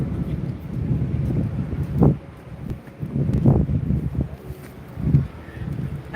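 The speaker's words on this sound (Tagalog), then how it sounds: "See? It's windy." Wind buffets the microphone outdoors at Victoria Peak in Hong Kong, a loud, rough rumbling roar with gusts surging every second or two, close and constant, with no speech.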